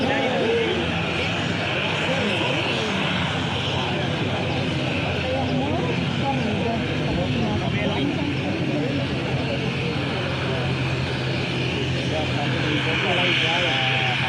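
Steady, loud drone of an airplane engine inside the cabin of a roughly 60-seat passenger aircraft on the Makassar–Bone route, constant and unbroken for the whole span, with faint chatter beneath it.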